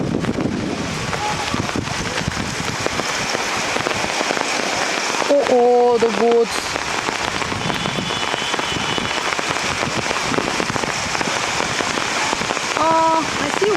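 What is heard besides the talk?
hail falling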